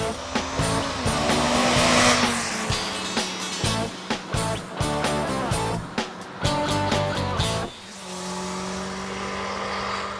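A Honda CBR600 sport motorcycle rides past on a road, its engine loud and close, with a rising and falling high-revving roar, brief drops in sound, and a steadier drone toward the end.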